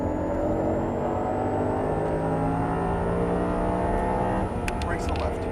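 An Audi R8 V10 pulls hard on a Las Vegas race track, its engine a loud, steady, rising drone close by, with a brief burst of clicks and rattles near the end.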